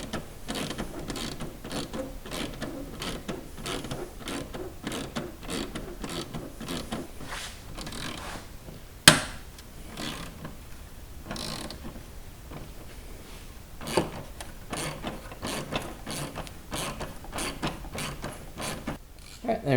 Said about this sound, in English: Just a few fasteners in here that hold this inner assembly in place. So I'll get those loosened up here.